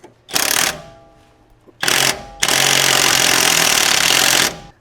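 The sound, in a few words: power tool cranking in a bolt on Chevy Silverado shock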